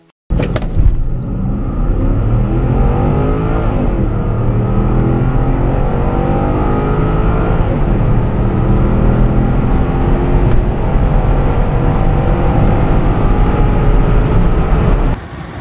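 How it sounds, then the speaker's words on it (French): A Porsche Cayenne V8 sustains a loud, steady engine note for about fifteen seconds, its rising harmonics showing it pulling hard through the revs, with no voices over it. "les acousticiens de Stuttgart ont particulièrement travaillé la tessiture du 8 cylindres"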